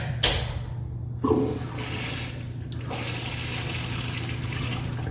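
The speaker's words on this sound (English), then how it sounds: "Just a short flush." A short toilet flush in a children's restroom at Brewers Alley in Frederick, Maryland: a sharp click, then a close, loud rush of water settling into a steady hiss and refill trickle, with no talking.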